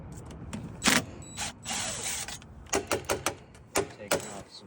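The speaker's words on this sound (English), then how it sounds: "Taking off some screws" Ratchet wrench turning out screws on a furnace burner assembly, close and clicky in short bursts, with some clanks of metal parts being handled between the runs of clicks.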